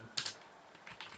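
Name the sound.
typing a command on a computer keyboard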